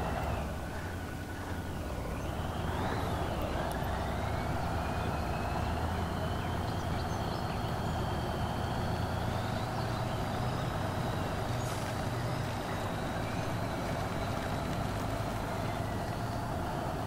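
Kraz-260 heavy truck pulling away in low gear in the SpinTires off-road game: a steady loud diesel engine drone with whining transmission tones, continuous and near, no talk.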